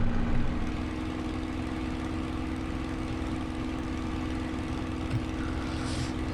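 Royal Aircraft Factory SE 5 biplane engine in Flight Simulator 2020, parked with the brake set as throttle rises: a steady, droning propeller engine hum, loud and even throughout, with no speech.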